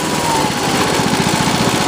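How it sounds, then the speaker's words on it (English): A Honda Harmony H2113 lawn tractor engine idles close up, a fast, even chugging putter with a rattly mechanical texture and no voices. "There's your idle. Idling okay."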